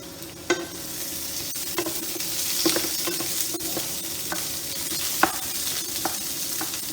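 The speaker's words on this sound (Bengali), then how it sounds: "এটা আর একটু ভাজা ভাজা হোক।" Potatoes and pointed gourd fry in a pan with a steady, bright sizzle. Scattered sharp clicks and scrapes from stirring recur every second or so, and no one speaks.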